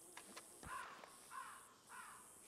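A crow caws three times in Red Dead Redemption 2, harsh nasal calls spaced evenly apart and heard at a distance over a quiet background with no talk.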